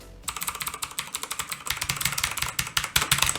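Rapid, steady typing on a Hansung Boss Monster KLV.77 mechanical keyboard with Outemu blue switches: dense, crisp clicky keystrokes, close and loud, continuing throughout with no talking.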